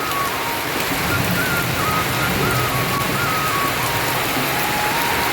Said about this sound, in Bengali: কি জোরে বৃষ্টি